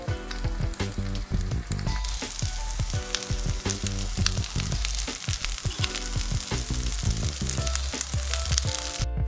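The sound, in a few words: rice and vegetable pancake frying in a pan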